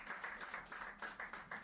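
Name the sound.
audience applause for the next speaker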